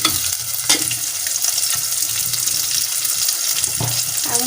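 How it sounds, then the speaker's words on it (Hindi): Sliced onions fry in a pan, a loud, dense sizzle filling the whole stretch with a few scraping stirs and clatters of a utensil, close by and without talk. "पूरा ही प्याज डाल देंगे भूनने के लिए। अब इसको लाल होने तक भून लेंगे।"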